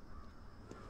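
Crows caw in a video game, a steady dense bed of cawing that holds for about a second, loud and continuous with no talk over it.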